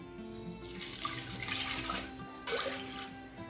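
Water runs from a kitchen tap into a pressure cooker holding washed moong dal, a steady splashing pour with louder bursts, close by and with no voices.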